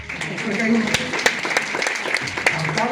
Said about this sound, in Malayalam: Give them a big clap.